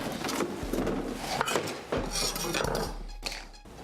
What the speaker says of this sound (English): Now I'm gonna cut up an onion and a green pepper.